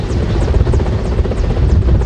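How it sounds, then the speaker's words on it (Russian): A Mi-8 helicopter flies near a rooftop during a rescue exercise, its rotor thudding steadily and loudly with constant engine roar throughout. "Вертолет Ми-8 поднял с крыши здания условных рабочих канатом «Фастроуп»."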